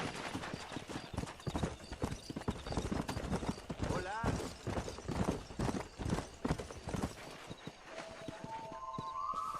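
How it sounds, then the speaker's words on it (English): Horse hooves clip-clop at a fast gallop in the Western video game Red Dead Redemption, a steady loud drumming of hoofbeats with a brief whinny, while voices talk over it and music rises at the end. "All right, I'll show you how we ride around these parts. Giddy up!"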